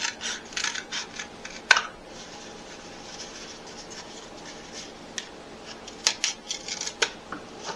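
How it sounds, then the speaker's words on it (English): Scissors cutting cardboard into the shape of a shoe for a DIY craft, giving a few sharp, close snips and crisp crunches separated by quiet pauses. "I'm just taking my scissors and kind of cutting the form of the shoe."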